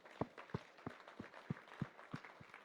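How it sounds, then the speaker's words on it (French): A church congregation applauds during a sermon, with about nine distinct, evenly spaced claps or beats over a few seconds, fairly faint against a low background murmur. "tu peux applaudir le Seigneur"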